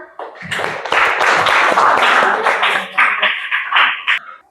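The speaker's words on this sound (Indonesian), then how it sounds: "Oke, kasih tepuk tangan." Classroom of students clapping after a group presentation, a loud burst of quick, uneven handclaps that swells, holds for several seconds, then thins out to a few last claps.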